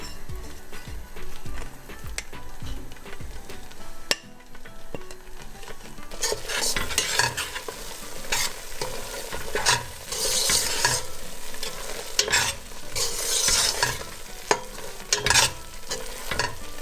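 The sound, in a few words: stirring thick mohanthal mixture with ghee in pan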